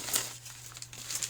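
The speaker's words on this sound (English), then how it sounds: "As usual, we'll take out the tissue paper" Tissue paper crinkles as it is pulled out of a leather handbag, with soft rustles and crackles coming in short bursts. The sound is close and fairly quiet, with a faint steady hum underneath.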